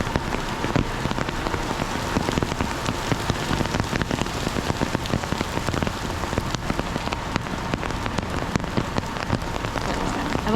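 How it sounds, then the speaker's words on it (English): A city downpour during a sudden storm hisses steadily and loudly, with dense rain drumming on surfaces throughout and no voices. "we have a big let out of rain here"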